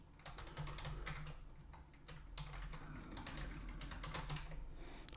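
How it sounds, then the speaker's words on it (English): Fingers tap out an email address on a computer keyboard in quick, uneven bursts of soft clicks with short pauses, close and quiet, no voices. "I'm going to type in my email address"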